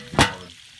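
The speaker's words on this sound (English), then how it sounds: "You start frying up the peppers and onions." Sliced peppers and onions hit a hot pan with a single sudden sizzling burst that quickly fades to a faint hiss, close and brief.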